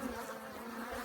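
Honeybees buzzing steadily on a Flow Hive frame during a hive inspection, a continuous close, dense drone of many wings with no pauses.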